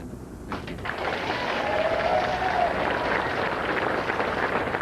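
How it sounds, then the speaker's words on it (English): Applause for the Prime Minister at Trimdon Labour Club on election night swells into a steady, full round of clapping from a packed room. "So applause for the Prime Minister there as he addresses his closest friends and colleagues there at Trimdon Labour Club"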